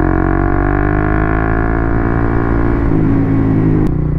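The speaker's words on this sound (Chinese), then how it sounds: "吹油门的时候声音真的是" A Suzuki GSX-R150 motorcycle fitted with a Yoshimura GP-Magnum TIS exhaust drones loudly and close, holding a steady throaty engine note that dips slightly before a sudden change near the end.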